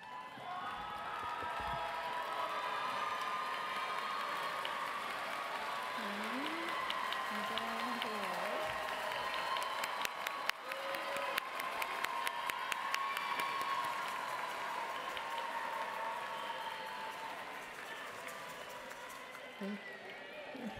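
Sustained applause from a standing audience at the Notre Dame of Maryland University 2018 commencement ceremony, a steady dense clapping wash that runs throughout, with scattered cheers and some voices mixed in.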